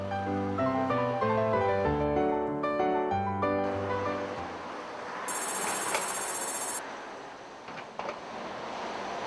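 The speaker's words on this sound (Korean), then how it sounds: "그로부터 한 달 후 그에게서 전화가 걸려왔다." A telephone rings with a melodic ringtone for about four seconds, followed by a brief, brighter electronic ring tone amid quiet ambient noise.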